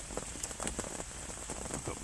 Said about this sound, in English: it's supposed to rain now till about 1 o'clock